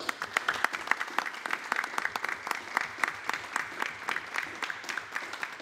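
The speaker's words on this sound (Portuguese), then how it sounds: "peço uma salva de palmas para a nossa Terezinha Guilhermina" Sustained audience applause at a panel discussion between athletes and producers, many hands clapping in a steady, moderately close patter that keeps going through the whole stretch, with no talk over it.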